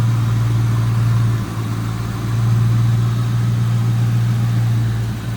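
A 1996 Ford Mustang GT convertible's single overhead cam modular V8 idles smoothly and steadily, a low, even hum close by with a slight dip partway through.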